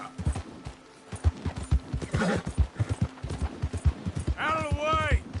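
Horse hooves clip-clopping in a rapid, uneven gallop, close and loud, with a voice talking over the hoofbeats and a brief whinny-like cry near the end.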